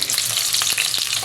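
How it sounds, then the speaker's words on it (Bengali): Potatoes frying in oil in a kadai, a steady close sizzle with a few brief stirring scrapes, no voices. "আলুগুলো আমি একটু তেলে ভেজে নেব।"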